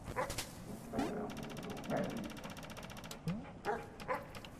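A dog in a video game giving a few short yips and barks, spaced out over quiet game sounds with a steady mechanical rattle behind.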